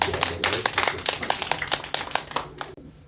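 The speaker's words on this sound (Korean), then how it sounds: "우리 박수로 맞이하도록 하겠습니다." A church congregation claps to welcome a missionary, producing a burst of quick, uneven handclaps from a modest group, close and clear, tapering off abruptly at the end.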